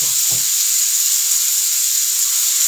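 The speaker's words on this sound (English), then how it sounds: "We hear that sizzle." Portobello mushrooms and onions sizzle loudly and steadily in a hot pan, a constant bright hiss filling the whole stretch, with a couple of soft low knocks near the start.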